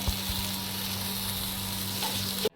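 Prawn paturi wrapped in gourd leaves frying in a pan, a short, close, steady sizzle with a low hum underneath that cuts off abruptly at the end.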